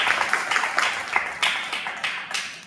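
Audience applause at a Tamil speech event on teachers, students and parenting, heard as a moderate burst of hand claps with irregular sharper peaks, steady throughout at middling distance.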